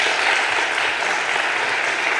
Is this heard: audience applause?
yes